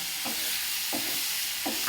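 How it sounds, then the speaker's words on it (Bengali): Pieces of ash gourd fry steadily in a pan with a constant close hiss of oil, broken by three soft scraping stirs at even intervals. "চাল কুমড়ো ভাজা।"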